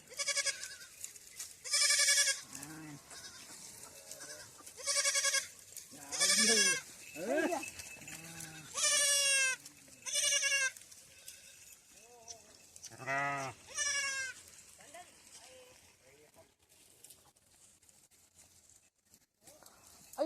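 Goats and sheep bleat repeatedly at a Dhangar herder's home, loud, wavering cries rising one after another across the scene, with quieter stretches between and a little background activity.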